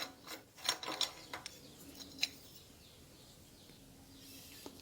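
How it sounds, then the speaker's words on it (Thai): Recoil starter of a Honda GP160 water pump engine, left unused about a year and failing to start, yanked in a quick cluster of rattling ratchet pulls, then one more pull after a pause, with faint birds behind. "ทั้งเจ้าของและก็ผมมาดึงสตาร์ทอีก"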